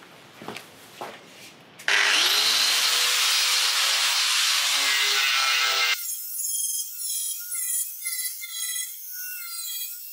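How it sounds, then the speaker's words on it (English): Powder coat being sanded off a pie-cut metal intake pipe before welding: a loud, steady, harsh abrasive roar lasts about four seconds after some soft handling knocks, then gives way to a fading high tool whine. "Just got to clean off the powder coat and get that ready for welding."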